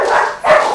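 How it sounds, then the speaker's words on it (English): Dogs in a backyard bark and snarl loudly and close, in a rough, continuous burst from a scuffle between several animals, with no talk over it. "There's still a dog fight in the backyard."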